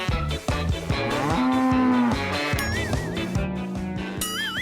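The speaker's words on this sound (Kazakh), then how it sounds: "Не, нағыз сиыр ма?" A cartoon cow moos in a Lego-style animated scene, giving several drawn-out, loud, tonal lows over a bouncy musical backing, with brief whistly effects near the end.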